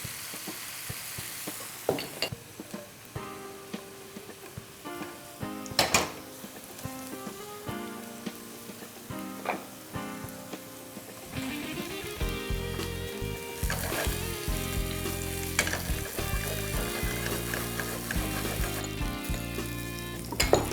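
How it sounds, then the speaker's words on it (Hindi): Vegetables sautéing in a kadai: a steady loud sizzle and frying hiss with repeated stirring scrapes and metallic clinks, intensifying in the second half. "And we'll saute the vegetables on the other side."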